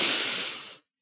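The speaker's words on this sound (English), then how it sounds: "deep breath in" A single deep breath drawn in through the nose, a close, steady airy hiss lasting under a second before cutting to silence.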